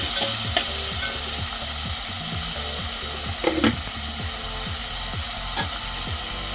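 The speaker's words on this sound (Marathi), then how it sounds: "कांदा टोमॅटो छान भाजून घ्यायचा।" Onion and tomato fry in hot oil with salt, a steady close sizzle paired with a regular rhythm of spoon scrapes against the pan, no voices present.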